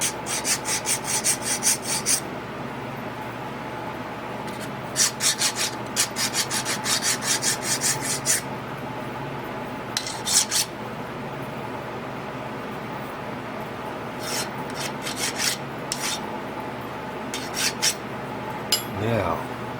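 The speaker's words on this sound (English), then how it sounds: "we'll hit this with a file" Hand file rasping on a metal edge in a small lathe build, in repeated bursts of quick strokes separated by short pauses, close and fairly loud.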